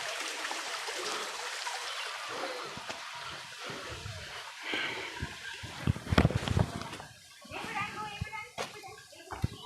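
Water trickles and rushes steadily from a stream at the Panchalingeswar waterfall in Baleswar, carrying on under frequent nearby voices, with a child among them, plus a few sharp knocks.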